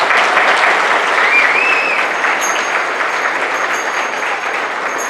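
Audience applause fills the hall, a steady dense wash of many hands clapping at fairly loud, even level throughout, easing slightly toward the end.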